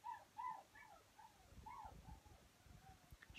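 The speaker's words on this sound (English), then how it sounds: "And she won't stop yapping." Half Whippet, half Staffy puppy whining in a string of high, wavering cries, close and fairly quiet, with faint low rumbling noise underneath and no talk.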